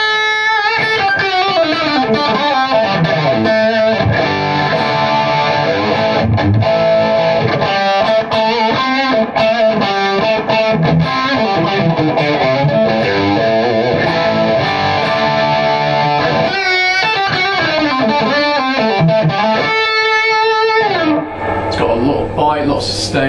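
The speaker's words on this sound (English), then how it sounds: "here's the SSH plus with a bit of distortion on it." Distorted electric guitar, a Suhr Guthrie Govan Signature, plays continuously, thick and saturated, with chords and melodic runs, loud and close throughout.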